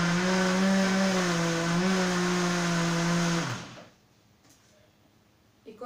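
A blender mixing chocolate cake batter: a loud motorized whir runs steadily for about three and a half seconds, then winds down and stops, leaving near silence.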